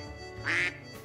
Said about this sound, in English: what is a quack?